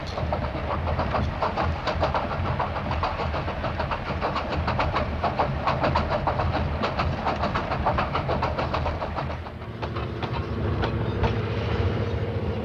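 A fast freight train rolls along the rails with a loud, continuous rumble and rapid clickety-clack of wheels over track joints, heard up close, with the tone shifting slightly near the end as the cars pass.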